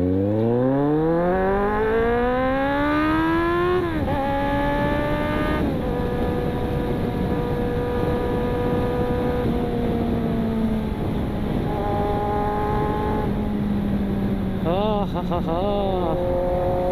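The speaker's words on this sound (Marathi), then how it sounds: "आता खूप दिवसांताच बाईक काढले त्यामुळे थोडासा RPM हाय ठेवतो आहे" A motorcycle taken out after a long idle spell, its tyres low on air, revs hard through climbing gears, the engine note rising and dropping with each shift, loud and close during riding.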